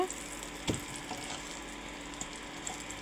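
Food frying in a pan on low heat, a soft even sizzle with one brief clatter near the start and faint pops, close but quiet, without speech.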